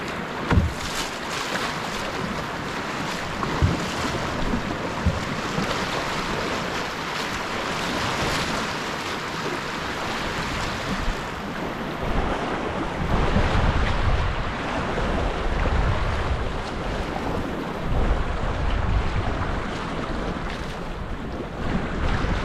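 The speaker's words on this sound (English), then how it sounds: "some big waves." Big standing waves churn through high-flow rapids on the Upper Missinaibi River, a constant loud rush of turbulent water mixed with buffeting wind noise, steady and close, with no voices.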